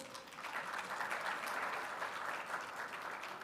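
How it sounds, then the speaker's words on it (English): An audience at a Buddhist summit gives a speaker a round of applause, with dense, steady clapping at a moderate distance and no talking. "Let's give Dr. Hindol Sen Gupta a big round of applause."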